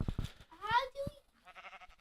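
Sheep bleating in the Minecraft video game: a short, wavering bleat near the end, following a voice and a brief higher call, fairly close and moderately loud.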